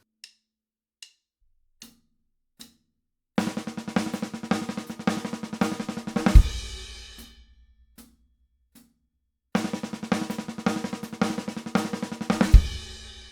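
Four soft clicks count in, then a fast, dense 32nd-note paradiddle-diddle drum fill rolls across the kit ending on a crash cymbal; after more clicks it repeats.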